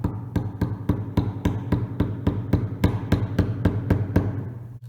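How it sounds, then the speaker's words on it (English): A wood chisel tapped with a mallet while cutting through wood, giving a steady series of light, even knocks about four per second, close and continuous with no speech. "I can tell how sharp this chisel is just from the sound that it makes when it's cutting through the wood"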